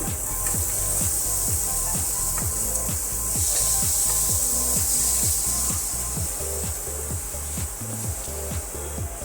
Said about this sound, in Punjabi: ਮਸਾਲੇ ਨੂੰ ਆਪਾਂ ਹੁਣ ਇਹਨੂੰ ਮਿਕਸ ਕਰ ਦਵਾਂਗੇ